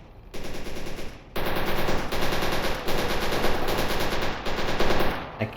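Bursts of automatic gunfire from S.T.A.L.K.E.R. Anomaly: loud, rapid machine-gun volleys in several long strings separated by short gaps, close and dominant throughout.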